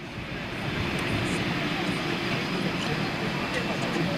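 British Airways Boeing 747 jumbo jet in retro livery landing at London Heathrow, a steady loud roar of jet engines lasting the whole stretch with no break.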